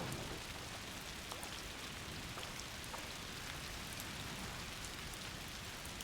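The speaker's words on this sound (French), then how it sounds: "Oh la pluie, elle est tellement belle aussi!" Rain falls in the video game A Plague Tale: Requiem as a steady, soft hiss with scattered droplet ticks and no voices.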